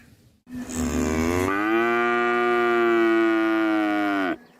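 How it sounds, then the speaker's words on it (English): A cow gives one long, loud, sustained moo that rises at the start and holds steady for about four seconds before cutting off, close and alone with no talking. "Cows go moo."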